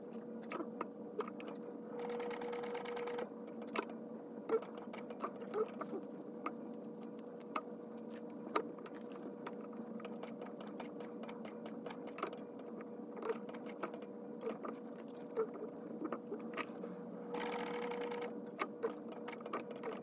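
A sewing machine top stitching a bag at a 4.5 stitch length runs in two fast, whirring bursts, with quiet ticking and handling clicks in the pause between them.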